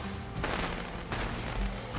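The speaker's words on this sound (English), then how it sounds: "Fireworks are just going off again." Fireworks burst in a Planet Coaster theme park, two or three soft, muffled booms spaced apart and heard at a distance with no talk over them.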